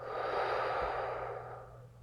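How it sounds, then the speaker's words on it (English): A long, steady exhale lasting about two seconds during a guided breathing exercise after a held breath, soft and close, fading gently toward the end with no talking. "exhale."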